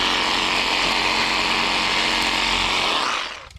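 A Skil SawZall reciprocating saw cuts through small tree branches in a yard, a loud continuous buzzing whine that holds steady for several seconds before winding down at the end.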